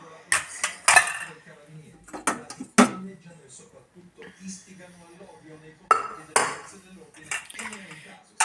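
Metal pots clank and clatter in a few sharp bursts in a home kitchen, with lids and utensils knocking, while someone talks between the handling.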